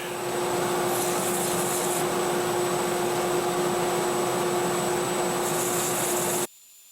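Sandpaper running against a spinning pen blank on a lathe, a steady continuous rushing hiss with a constant hum underneath, cutting off abruptly just before the end.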